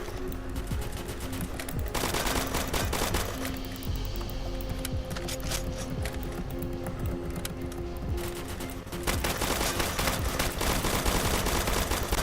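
Rapid bursts of automatic gunfire from the Roblox zombie-survival game So Hungry, dense and continuous for the full stretch, with a steady game hum beneath and a brief lull before the shooting picks up again.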